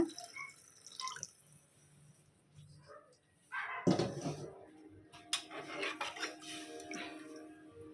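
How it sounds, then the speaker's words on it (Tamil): Water is poured into soaked rice in a cooking pot while making tomato pongal, a splashing, trickling pour that starts after a few quiet seconds of light kitchen clatter and continues to the end. "இப்போ தண்ணி ஆட் பண்ணிக்கலாம்."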